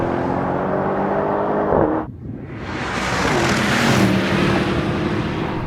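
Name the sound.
Tesla Model 3, BMW M850i and Mercedes-AMG E63 S racing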